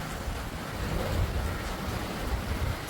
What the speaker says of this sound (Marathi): बाहेर मस्त गार हवा सुटले